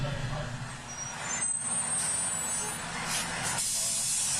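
A fire truck arrives, heard from a police body-worn camera: a steady, close engine rumble with a loud hiss of air brakes, and voices talking faintly underneath.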